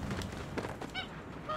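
Geese in the video game Knights and Bikes give short, nasal honks, several in quick succession, fairly clear over a busy game soundscape.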